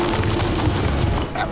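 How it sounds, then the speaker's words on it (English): A deep, rumbling explosion fills the moment in the video game Lords of the Fallen, a sustained loud boom with heavy low-end roar that fades slightly at the end. "Or it's just going to explode."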